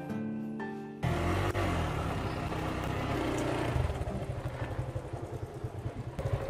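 A motorbike engine starts up close and loud after a brief quiet moment, running in a steady rumble that turns into a throbbing, pulsing idle toward the end.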